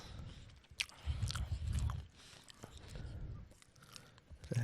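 Close, quiet chewing and crunching of food at a microphone for an ASMR podcast, with soft bites recurring in short bursts and small mouth noises between them.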